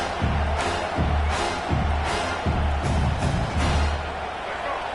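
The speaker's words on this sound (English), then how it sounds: "This crowd trying to make life miserable for this offense." Football stadium crowd roaring steadily against the offense, a loud continuous wash of cheering with rhythmic surges about every half second, like chanting or stomping.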